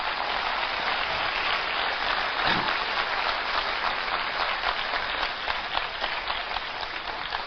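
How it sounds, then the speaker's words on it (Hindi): An audience at an Amway motivational event bursts into loud, dense applause that holds steady for the whole stretch, with no talk over it. "तो वैसी ताली बजा दो एक बार।"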